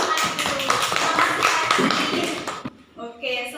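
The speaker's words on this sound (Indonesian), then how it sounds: "tepuk tangan buat Hani dulu" A group applauds Hani in an elementary school classroom, with dense clapping mixed with voices for a few seconds, then it stops abruptly and a brief voice follows.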